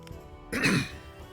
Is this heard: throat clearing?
yes